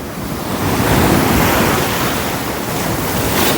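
Storm-driven surf pounds the shore at Point Pedro while strong wind roars across the microphone, a dense, loud and continuous wash of breaking waves with no talking.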